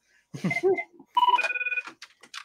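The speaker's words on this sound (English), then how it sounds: "oh, I'm getting a phone call." A phone rings with an incoming call during a hockey podcast, a short electronic ringtone burst sounding between bits of nearby talk.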